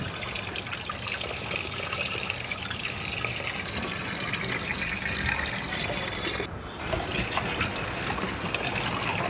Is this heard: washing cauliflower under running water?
yes